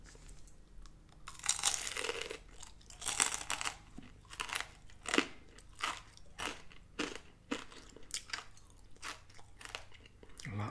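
A crunchy Taco Bell rolled chicken taco gets bitten and chewed up close, sharp crackling bites followed by a run of rhythmic crunching chews in a quiet room.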